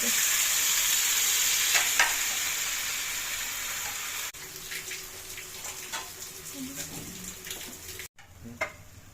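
Green pea paste ground with green chili and ginger frying in a wok as it is stirred, a steady sizzle with scraping strokes that thins out and turns choppier, close and fairly loud.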